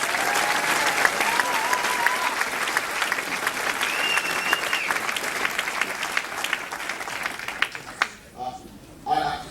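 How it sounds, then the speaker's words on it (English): An audience at a 2008 Iowa presidential campaign event applauds in a steady, dense burst of clapping that holds for several seconds before thinning out and fading near the end. "give them a big round of applause again, please"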